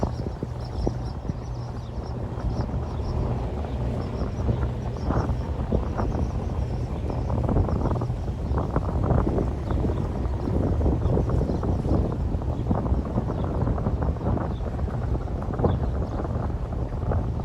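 Steady wind roaring across the microphone while sailing off the Greek islands of Kefalonia and Lefkas, a constant dense rush with faint knocks and creaks from the boat, no talk.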